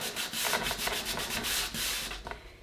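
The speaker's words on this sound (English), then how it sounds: "this tool is a little teeny sanding block, and it is perfect for cabinets" Rapid back-and-forth scratching of a small sanding block on a wooden cabinet, a rhythmic rasping that continues steadily, close up.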